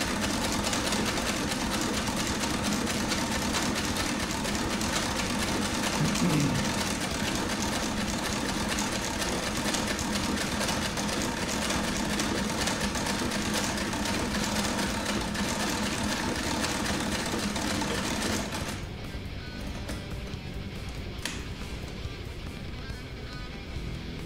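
A 1910 sewing machine stitches a new pair of jeans, running in a steady, fast mechanical whir and clatter for about twenty seconds before dropping to a quieter hum.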